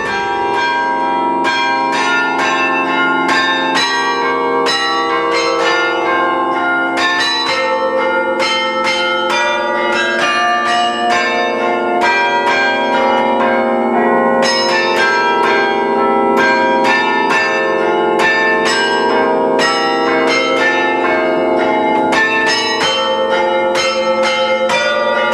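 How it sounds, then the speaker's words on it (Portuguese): Carillon bells at the Mafra convent, played by a young girl: a loud, continuous run of ringing bell tones struck in steady melodic succession, layered and resonant, with no voices. "ela tem 17 anos, é a Sara Rosa Elias, entusiasmou-se pelos carrilhões e, como vê, já vai tocando, já vai tocando."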